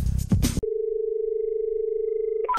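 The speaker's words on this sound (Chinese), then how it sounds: "打电话找警察叔叔" Steady telephone dial tone heard alone, a single continuous hum lasting about two seconds after a brief burst of sound, as a phone is picked up to call the police.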